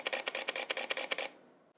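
A Leica SL camera shutter clicks in a rapid continuous burst of roughly ten crisp, evenly spaced snaps, close and fairly loud, then stops abruptly.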